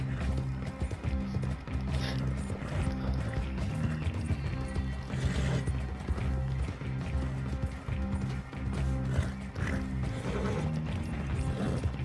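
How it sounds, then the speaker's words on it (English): A horse gallops in Red Dead Redemption 2 Online, with a steady, rapid clip-clop of hooves running continuously under busy in-game ambience and other effects. No voices are heard. "Oh my God, this horse almost out of energy"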